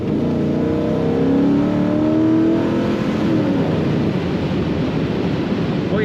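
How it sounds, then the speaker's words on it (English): A 1979 Chevrolet Camaro restomod with its engine pulling under throttle, a rising, swelling note that eases off, heard from inside the car over steady road and wind roar, with no talk. "Let's hit the throttle again."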